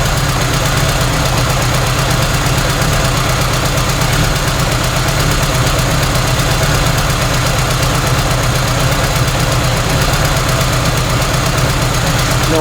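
A Volkswagen engine on its first cold start with a newly installed, rebuilt single carburetor idles steadily under alternator load, a close, loud, continuous mechanical hum with a faint knocking texture throughout.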